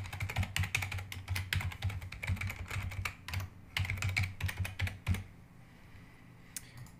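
Login details are typed on a computer keyboard in quick, close, crisp bursts of key taps, pausing briefly before a last few scattered taps, with no talking.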